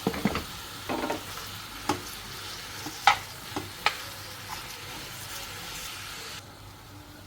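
Onion, pepper and garlic sauté in a pan with a quiet, steady sizzle, punctuated by a few sharp clinks of a utensil stirring against the metal.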